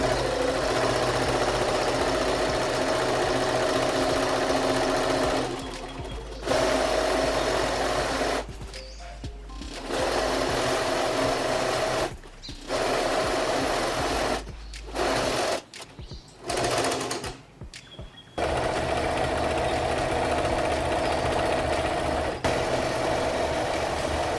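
Sewing machine stitching along a seam of boxy parka fabric, a close, loud, steady motor whir in long runs broken by several short pauses.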